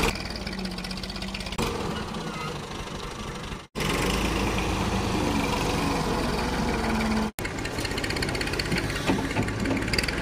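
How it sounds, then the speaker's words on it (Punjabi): A hired tractor's engine runs steadily while sand is loaded into a trolley, a loud continuous diesel chug with two brief dropouts and no talk. "ਕਿਰਾਇਆ ਵਾਲਾ ਟਰੈਕਟਰ ਜਿਹੜਾ ਨਾ ਉਹ ਰੇਤ ਭਰਨ ਡਿਆ ਹੁਣ"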